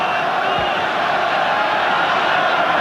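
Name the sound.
crowd noise at rugby test match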